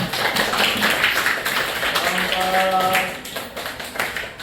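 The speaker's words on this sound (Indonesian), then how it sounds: "tepuk tangan dulu buat kelompok" A classroom group claps for the presenting team, a short burst of scattered hand claps mixed with a few voices, tapering off toward the end.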